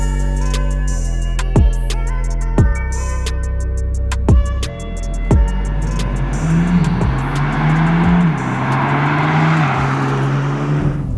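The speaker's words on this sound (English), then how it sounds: "with that paddle shift gear change, music to my ears." A 2021 BMW G80 M3 accelerates on the road, each paddle-shifted upshift marked by a sharp crack in the exhaust, several in quick rhythm, before the engine settles into a steady, rising drone.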